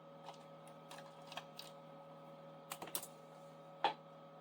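Crayon or marker scratching across a small paper picture of bacon, short soft scrapes in an irregular rhythm, close and quiet, with no talking.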